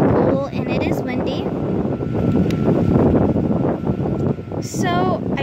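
Wind blows across a microphone at an outdoor pool, a continuous low rumble with short chirpy sounds and voices mixed in.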